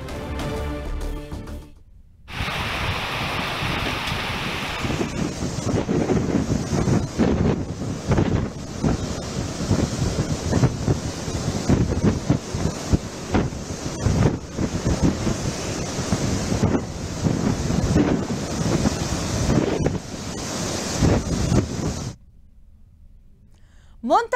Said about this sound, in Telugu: తీరం వెంబడి సుమారు 40 నుంచి 50 కిలోమీటర్ల వేగంతో ఈదురుగాలులు వీస్తున్నాయి.